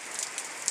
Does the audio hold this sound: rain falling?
yes